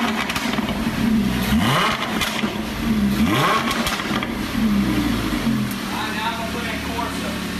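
A Lamborghini Huracan engine revs hard several times in quick succession, each rising surge falling back to a burbling idle, loud and close, with a voice speaking over it.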